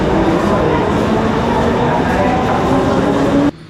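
Mumbai local train running, a dense steady roar and rattle of the moving coaches throughout, with faint voices mixed in, cutting off abruptly near the end.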